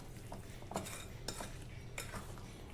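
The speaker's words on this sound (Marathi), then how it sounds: "हे छान आता अगदी मिक्स करून घेऊ." A spoon stirs raw mango chunda mixed with sugar, making a few soft scraping, clinking strokes against the pot at an even, unhurried rhythm, close and moderately quiet.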